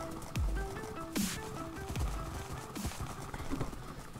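Horse hooves clip-clopping in the Minecraft video game during a race, a few hollow knocks with brief gaps, set against game music and background noise.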